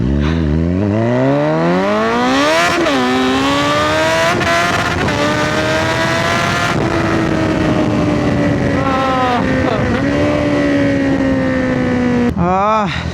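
A Kawasaki Z900 motorcycle engine revs loudly and close, its pitch climbing and dropping through repeated throttle pulls and gear changes during a ride.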